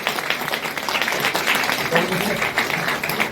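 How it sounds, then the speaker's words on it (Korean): Applause from a campaign crowd at Ju Ho-young's election campaign launch for the People Power Party's Suseong-gap district, steady and dense throughout, with voices mixed into the clapping. "큰 박수 부탁드립니다"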